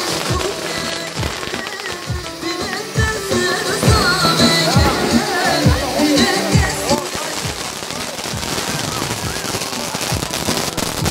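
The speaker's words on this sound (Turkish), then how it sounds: "Bir havai fişek patlamış" Fireworks crack and pop in rapid irregular bursts at a large Kurdish tribal wedding celebration, loud and close, with a crowd's voices and festive noise mixed underneath.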